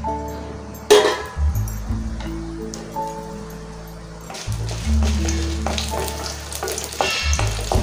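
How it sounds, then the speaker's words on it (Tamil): Dried red chillies fry in oil in a pan for a Tamil rasam recipe, a constant close sizzle broken by stirring clinks and scrapes, with background hum and tones underneath. "எண்ணெயிலேயே வரமிளகாயை வறுத்துக்கோங்க."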